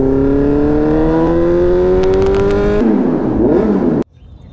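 A Kawasaki Z900 superbike fitted with a titanium Arrow exhaust revs loudly and close by, its engine note climbing steadily before wavering and cutting off abruptly near the end.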